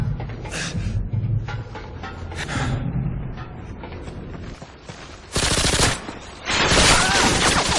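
Video game gunfire crackles in rapid automatic bursts, loud and close, mixed with game voice lines and sound effects.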